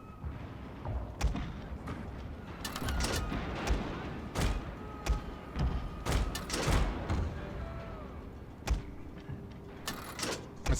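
Explosive-shot artillery firing in a Total War battle game, scattered loud thumps and cracks at irregular intervals against a steady rumbling battlefield background.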